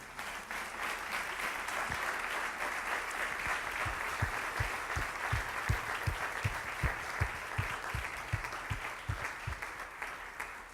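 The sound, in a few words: congregation applauding in church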